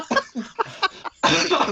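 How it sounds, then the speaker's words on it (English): A person coughs in a quick series of close, harsh bursts, ending in a longer rough cough with no talk over it. "I can't laugh because if I start laughing, I cough for about 3 weeks"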